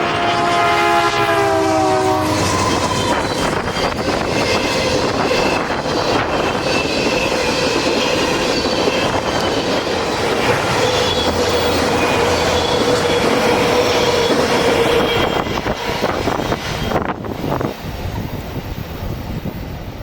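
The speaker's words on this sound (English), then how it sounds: "M302 is a southbound manifest train that runs as needed between Memphis, Tennessee and Baton Rouge, Louisiana" Southbound M302 manifest freight train carrying grain and lumber rolls past near Memphis, a loud continuous rumble and clatter of cars, with a horn sounding in the first seconds, steady throughout before easing slightly at the end.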